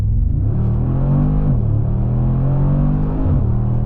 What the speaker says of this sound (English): let's go ahead and do a hard pull in the G-Wagon again